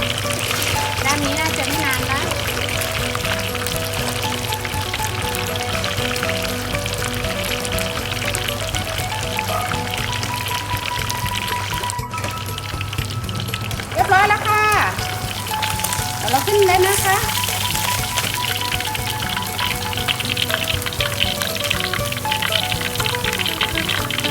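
Steady sizzling and crackling of a large tilapia frying in a pan, continuous throughout, with a voice speaking intermittently over it.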